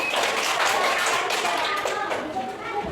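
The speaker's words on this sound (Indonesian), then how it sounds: "Beri tepuk tangan pada kelompok emak" A classroom audience claps for a group that has just finished its presentation, a busy patter of many hands close by with a few voices mixed in.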